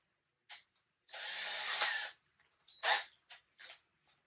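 Screws backed out of the inner cabinet of a 1951 Vendo 39 Coke machine with a Phillips driver on an extension, a short whir, then a sustained one-second buzz, followed by several brief bursts and scraping clicks.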